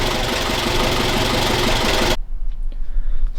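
A Bobcat 632 skid steer's carbureted engine runs loud and close with a dense, knocking chug for about two seconds, then cuts out abruptly, leaving quieter mechanical ticks and low rumbling.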